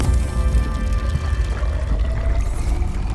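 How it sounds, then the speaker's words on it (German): Player character drinking water in the underwater game Subnautica: a steady, loud liquid pouring and gulping wash over a low rumbling ambient hum, continuous throughout with no talking. "Wasser könnten wir auch mal trinken."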